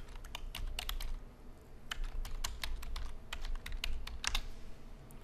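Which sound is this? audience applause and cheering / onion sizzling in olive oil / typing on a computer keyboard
typing on a computer keyboard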